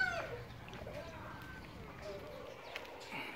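Chickens and roosters on a farm in the morning give faint, distant clucks and calls, with a steady low background hum and a soft murmur of voices.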